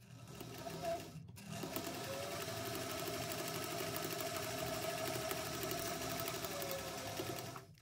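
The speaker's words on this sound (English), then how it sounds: "now we're just going to sew through here with a 1/4 inch seam allowance" A sewing machine stitches the bottom seam of a bag pocket, its fast, even mechanical chatter running steadily after a brief pause near the start, close and clear with no talking.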